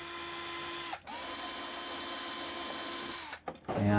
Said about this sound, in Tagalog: ito meron tayong rechargeable impact driver